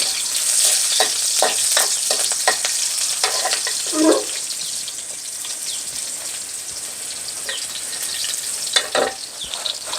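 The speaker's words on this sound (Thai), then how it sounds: "ทำมาพัดผักกาดอันนี้กับพริกกับอันหัวกระเทียมทุบใส" Mustard greens stir-fried with chili and crushed garlic, giving a steady, bright sizzle with a scattering of scrapes and light taps from the stirring.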